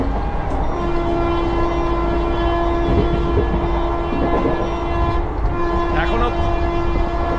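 Garib Rath Express train running at about 110 km/h, with steady loud rumble and clatter of wheels on track and a long sustained horn blaring through most of it, a voice briefly audible.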